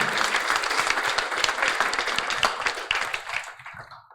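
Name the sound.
audience applause at awards event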